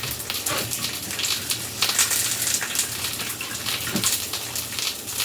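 Tap water running steadily into a bowl of flour for Korean pancake batter, a continuous splashing rush heard close and alone.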